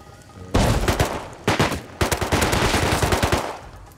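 Gunfire in the survival game Rust arrives in loud, close bursts of rapid automatic shots. Three separate volleys are heard, and the last is long and sustained.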